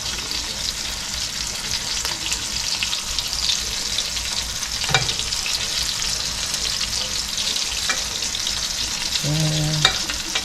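Speckled trout frying in a pan alongside potatoes and onions, a steady close sizzle and crackle with a few faint clinks of a utensil, no talk.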